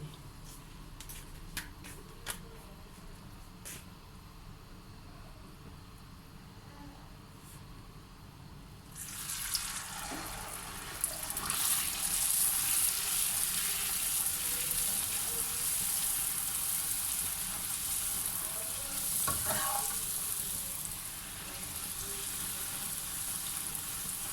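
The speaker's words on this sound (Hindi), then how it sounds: "ऑयल हमने पहले से गर्म होने के लिए रखा हुआ है और ये हमारा फुल गर्म हो चुका है। अब हम इसमें पूरी डालेंगे।" Puri dropped into fully heated oil for halwa puri, a loud broad sizzle bursting in partway through after a quieter stretch of faint clicks and tapping, then frying steadily with bubbling surges.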